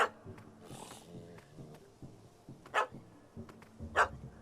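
Dog barking at a cat up a tree in The Witcher 3, sharp separate barks spaced across the moment, loud and close against a quiet ambient background.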